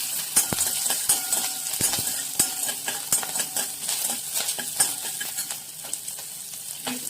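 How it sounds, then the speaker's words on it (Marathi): Curry leaves and peanuts sauté in a hot pan for a fasting-style upma, giving a steady close sizzle broken by frequent sharp clicks and scrapes of a spoon stirring against the metal. "कढीपत्ता, हे छान आपण परतवून घेऊया।"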